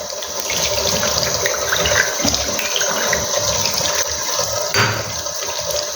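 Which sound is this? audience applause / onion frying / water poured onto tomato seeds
water poured onto tomato seeds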